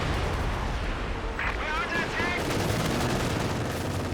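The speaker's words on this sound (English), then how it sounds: "The howitzer does fall though to the Katyusha barrage." Katyusha rocket barrage striking a howitzer in Company of Heroes 2, a dense roar of rapid explosive impacts and rumbling fire throughout, mixed with battle noise and a brief high whistling whine.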